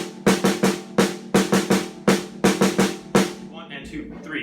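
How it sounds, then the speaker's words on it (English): Snare drum playing the Herta hybrid rudiment, a fast hand-to-hand three-beat pattern of sharp stick hits in repeating clusters, close and crisp, ending with a brief trailing ring. "it's a very, very simple hybrid rudiment"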